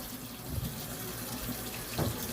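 Tap water runs steadily into a plugged kitchen sink, a constant close rushing hiss with a couple of brief splashy surges, no voices.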